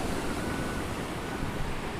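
Big waves crashing on an Australian shore during a southerly, a constant dense roar of surf with some wind, close and fairly loud, with no talk.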